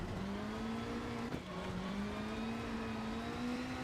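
Mitsubishi rally car engine in a racing video game on a snowy Alcan Winter stage, holding a steady, sustained drone that dips briefly midway, as if shifting gear, then climbs slowly again.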